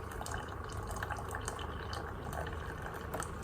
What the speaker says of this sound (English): now it's making some coffee.